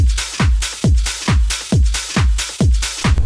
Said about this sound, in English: Just a really thumping sort of 909, distorted to fuck.